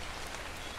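Steady rain pattering on surfaces in the Ark survival video game, a continuous wash of drops with no voices, lasting under a second.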